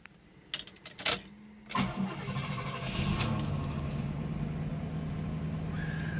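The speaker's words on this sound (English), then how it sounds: "Car starts up nice, idles quietly." A 1976 Cadillac Eldorado engine cranks with a few clicks and a sharp burst, catches and settles into a steady, fairly quiet idle.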